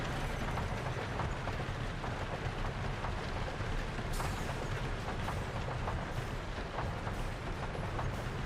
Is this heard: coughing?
no